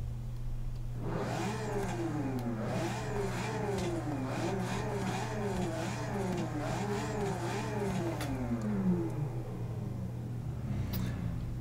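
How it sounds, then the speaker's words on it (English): The 6-liter V12 engine of a 1954 Jaguar D-Type in Forza 6, revving repeatedly in a steady rising-and-falling pattern over a constant low drone, loud and continuous for about ten seconds before it dies down. "let's hear how this thing sounds with this 6-liter V12"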